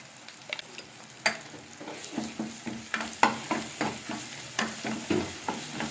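Chicken gravy masala with turmeric and pepper powder sautéing in a pan, a steady sizzle broken by a regular series of scraping stirs, close and moderately loud with no talking.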